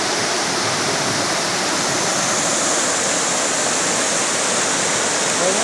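Floodwater in a flood-hit village area rushing in a loud, continuous roar close by, unbroken throughout with no distinct voices.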